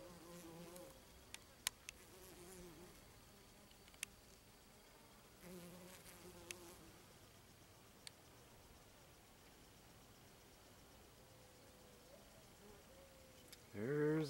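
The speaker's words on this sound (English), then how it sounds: "There's our green bee." A green bee buzzing faintly outdoors near prickly pear cactus, a thin intermittent drone with scattered clicks and rustles, quiet and distant, with a brief louder sound at the end.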